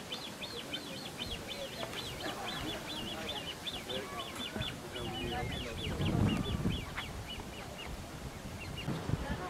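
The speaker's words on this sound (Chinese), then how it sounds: "小鸭子在那叫" Ducklings near the Kinderdijk windmills give repeated high, rapid peeping calls in quick runs, close and fairly clear over outdoor background noise, with a person talking at times.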